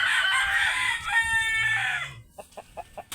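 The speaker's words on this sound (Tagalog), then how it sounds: "napakadaming manok dito sa farm" Large Texas-breed chickens on a farm: a rooster crows loudly and close by in one long, drawn-out call, followed by a short series of clucks from the flock.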